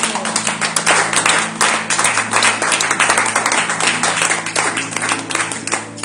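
A church congregation at a Tuesday worship service claps and applauds for about six seconds, a dense, steady wash of many hands filling the room, with a low hum underneath.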